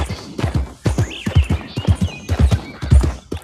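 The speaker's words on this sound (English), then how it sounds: "Horse riding simulator." Horse hooves clip-clop in a quick uneven rhythm with a sharp whinny near the middle, from a horse in the video game Red Dead Redemption 2, close and loud with no talking.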